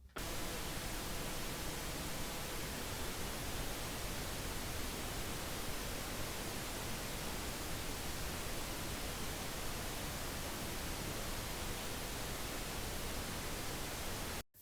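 Steady, broadband pink noise with comb filtering hisses without a break, filling the whole clip evenly, with a faint hollow, filtered coloring.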